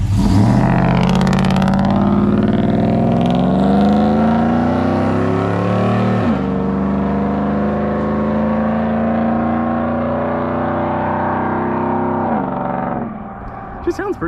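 An LS-swapped 1994 Chevy Silverado with long-tube headers drives past, its engine note loud and close, rising and falling in pitch as it passes, then fading at the end.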